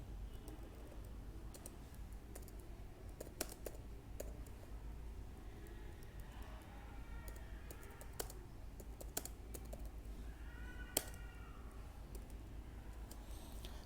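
Soft, quick keystrokes on a computer keyboard as inline CSS code is typed, a quiet irregular run of clicks with a few sharper taps, no voice over it.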